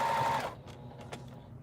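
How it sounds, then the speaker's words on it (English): A sewing machine stitching pillow corners with a lock stitch gives a brief steady whir of the motor that stops, then a few soft mechanical clicks, close by. "I'm doing a lock stitch on my corners"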